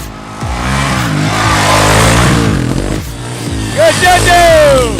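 A car engine accelerating hard on the throttle during a ride, loud and close with rising revs and a whining pitch climb near the end, while excited voices shout over it.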